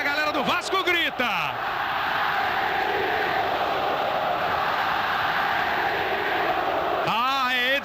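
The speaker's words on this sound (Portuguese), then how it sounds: "Ah, é Edmundo, grita a torcida." Football crowd in a Vasco versus Palmeiras 1997 Brazilian championship final, a broad steady roar of fans chanting the striker Edmundo's name, with a commentator's voice briefly over it at the start and end.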